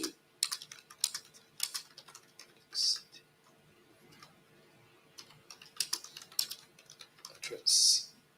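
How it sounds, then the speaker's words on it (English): Typing on a computer keyboard comes in irregular bursts of close, crisp key clicks with pauses between, alongside a few louder clacks, heard during a live-streamed talk on water microbiology. "I'm just typing at the same time here."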